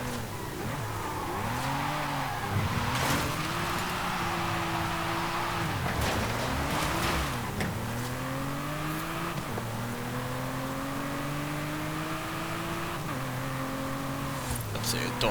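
A car in Forza Horizon 5 drives hard, its engine rising in pitch through several gear changes and revving between shifts, with a voice talking over it.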